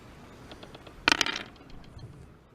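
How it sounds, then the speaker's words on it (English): A six-sided die is rolled during a tabletop game, giving a quick clattering burst as it tumbles to a stop, close and fairly quiet, with soft room noise around it. "Roll a 6-sided dice."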